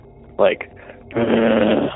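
A voice imitates a low groaning, labored breathing sound, two drawn-out breathy groans, the second longer and louder, close and alone after a brief spoken word.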